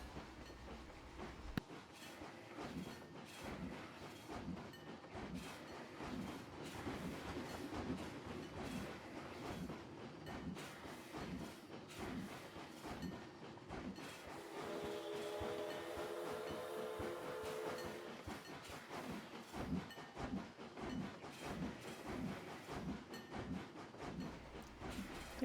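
Sped-up train ride in the video game Planet Coaster, a steady rapid clickety-clack of wheels over rail joints running continuously at moderate level, with a brief tonal swell midway and no talking.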